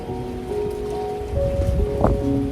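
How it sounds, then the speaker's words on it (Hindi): Rain falls steadily outdoors near a house and its potted plants, a constant close hiss and patter with a faint tonal hum running underneath. "बारिश स्टार्ट हो गई है फाइनली।"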